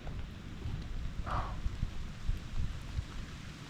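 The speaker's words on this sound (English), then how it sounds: "The rain picked back up." Steady rain patters outdoors as a soft, even hiss with low rumbling underneath, faint and continuous.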